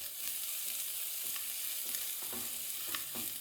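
Chopped vegetables for a vegetable soup stir-fry in a kadai, a continuous soft sizzle broken by several scraping strokes of a spatula against the pan, with no voices.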